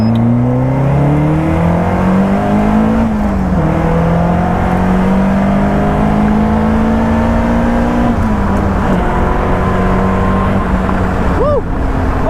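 Caterham 310R road-legal lightweight car accelerating hard, a loud close engine note climbing in pitch through the gears with brief dips at each shift, steady and continuous throughout.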